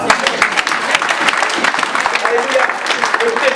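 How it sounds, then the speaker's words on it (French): A church congregation applauds and cheers to acclaim Jesus, with steady dense clapping and crowd voices close and loud throughout. "Ok, acclamez Jésus."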